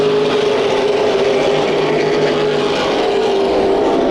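Late model race cars at Irwindale Speedway roar in a loud, continuous pack of engines sustained throughout, with no talking.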